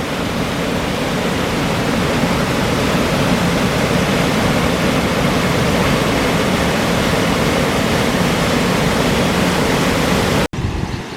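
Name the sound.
water rushing through river locks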